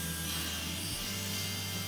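A handsaw cuts a wooden plank to length, a quiet, steady rasping of teeth through wood with a low hum underneath and a brief catch near the middle.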